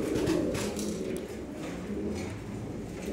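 Iraqi pigeons in Sydney, Australia, cooing steadily in low, throaty murmurs that overlap continuously, close by, over a soft background hum with no talking.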